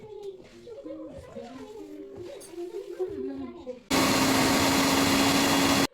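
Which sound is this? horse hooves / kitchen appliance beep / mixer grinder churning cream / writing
mixer grinder churning cream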